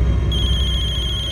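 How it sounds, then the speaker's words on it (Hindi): A telephone rings with a bright, rapidly pulsing electronic trill, loud and close, running through the short moment without any voices. "खबरी का फोन है।"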